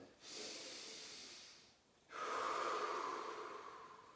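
Deep breathing exercise expanding into the front and back of the lower ribs: two long, airy breaths close to the microphone, a hissing inhale followed by a fuller, louder exhale after a brief pause, with no voices.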